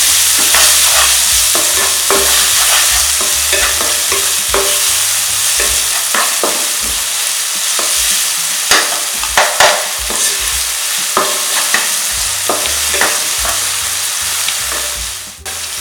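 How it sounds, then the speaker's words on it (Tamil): Onions sautéing with salt in a pan, loud continuous sizzle broken by repeated scrapes and clacks of a spoon stirring, close up with no voices. "வெங்காயத்துலேயே சால்ட் கொஞ்சம் போட்டுடுங்க. வெங்காயம் நல்லா வதங்கணும்."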